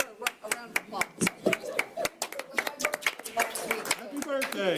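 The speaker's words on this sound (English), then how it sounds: "Let's give her a round of applause." Scattered applause at a transit authority board meeting, a small crowd clapping in loose uneven bursts, with voices talking over it.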